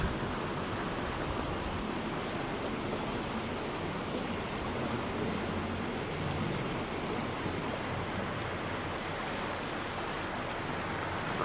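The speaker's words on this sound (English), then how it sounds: "So this is the river itself." An outdoor river flows beneath a small bridge, giving a broad, steady rushing wash that holds unchanged for about eleven seconds at a faint, distant level with no voices.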